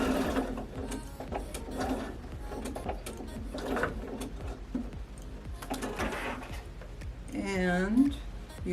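Sewing machine back stitching a seam on a Stella bag, a steady mechanical whir with repeated short bursts and pauses, a voice talking over much of it.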